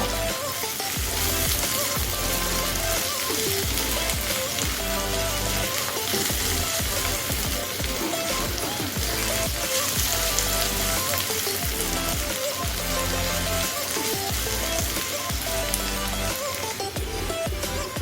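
Snake gourd fries in a pan, a loud, steady sizzle and crackle close by that holds throughout with no letup and no talking.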